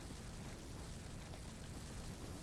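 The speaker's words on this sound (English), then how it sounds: "I really hope these fireworks aren't too much for you guys." Fireworks explode continuously in the Bloodborne video game, a dense steady roar of crackling bursts with no pauses and no speech, at a low, even level.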